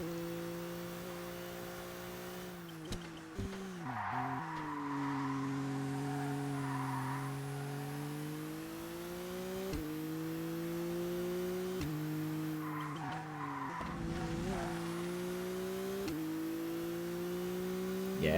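Race car engine in ToCA Race Driver 2 on a final lap, a steady high drone with rising and falling pitch through gear changes, with sharp downshifts and bursts of tire squeal around corners, close and continuous with no talk.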